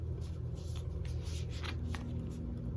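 Cards shuffled by hand for an intuitive reading, a close soft riffling with repeated quick flicks and slides over a low room hum.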